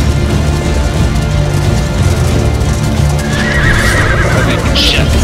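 A horse neighs and whinnies in the medieval MMO game Life is Feudal during a beach landing battle, a loud drawn-out call rising over constant game ambience and hoof clatter.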